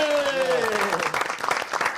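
An audience at a televised political satire theatre show breaks into applause. A voice is heard at first, then a burst of close clapping follows for about a second.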